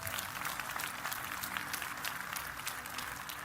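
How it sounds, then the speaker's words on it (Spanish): A church congregation claps in applause during a sermon, a full, sustained patter of many hands that holds steady and moderately distant throughout, without speech over it. "Aplausos a Jesús."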